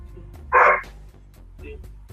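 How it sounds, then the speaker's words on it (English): The neighbor's dog lets out one sharp, loud bark close by, set against a low steady hum, with quieter sounds trailing after it. "Apparently, the neighbor's dog is out."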